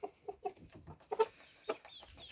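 Young hens cluck in short bursts, with a louder rooster call rising near the middle, close by and without talk.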